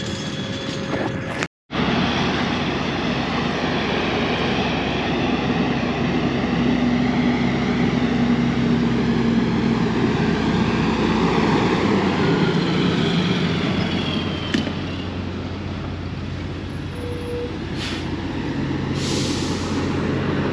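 A forage harvester chopping in a field, a loud steady mechanical drone with a constant hum that runs almost the whole time, broken by one brief dropout near the start.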